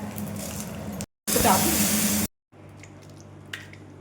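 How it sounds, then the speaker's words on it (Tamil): A hot tempering of mustard seeds, urad dal, asafoetida, dried red chilies and curry leaves hits the pan with a short, loud burst of sizzling and spitting, then settles into a quieter crackle. "இப்போ தாளித்து கொட்டிக்கலாங்க"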